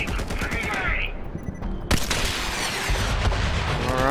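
Video-game gunfire from Borderlands 3 erupts in loud, dense bursts of rapid shots, a near-continuous barrage with a sharp crack just before the midpoint and heavy booming layers underneath.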